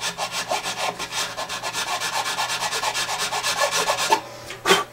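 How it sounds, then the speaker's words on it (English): A nut file rasping steadily on the nut of a Gibson Hummingbird acoustic guitar, a fast run of close, even back-and-forth strokes that stop, followed by one last short scrape, with no talk. "These files, man, I mean, they will eat a nut up fast."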